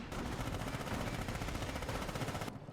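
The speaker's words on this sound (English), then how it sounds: "MG34 sounds just going off everywhere" MG34 machine gun fire in Company of Heroes, heard as a dense, continuous rattle of rapid automatic bursts that fills the whole moment at steady loudness, then cuts off abruptly near the end.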